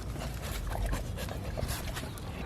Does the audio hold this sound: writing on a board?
no